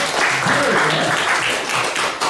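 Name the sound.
audience applause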